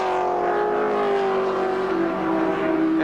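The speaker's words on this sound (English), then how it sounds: "He's got a BMW chasing him up the hill." A BMW touring car climbing the hill during the 1982 Bathurst 1000 race, its engine a loud, sustained, slightly falling tone close to the microphone.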